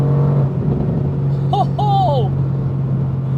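A 585 hp Mercedes-AMG GT R drives fast on the Autobahn, its engine a steady low drone under heavy road and wind roar, with a voice briefly exclaiming over it midway.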